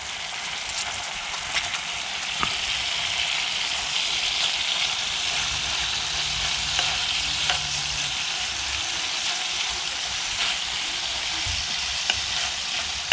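Freshly caught fish fillets fry in a pan with a steady, close sizzle and bubbling crackle, occasional sharper pops and a faint scrape mid-way, continuing evenly throughout.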